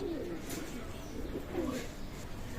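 Pakistani teddy pigeons coo softly in a loft, low murmuring calls repeating under a steady background hiss, with no talk.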